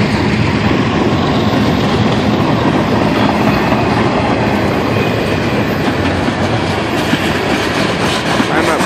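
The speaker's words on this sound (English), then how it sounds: "Way too late to see the train" A Norfolk Southern freight train with GP40-2 slug sets and an Operation Lifesaver unit rolls past in Charlottesville, a loud, steady roar of wheels and railcars with rhythmic clickety-clack throughout.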